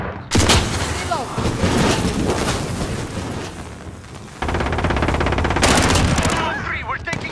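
Call of Duty video game combat with heavy, sustained automatic gunfire and booming explosions, loud and continuous, while voices talk underneath.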